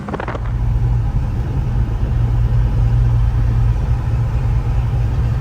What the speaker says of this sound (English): But we can do a burnout.